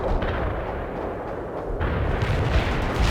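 Sustained artillery barrage in the video game World in Conflict, a dense rolling rumble of distant blasts that swells louder toward the end, with no talk over it.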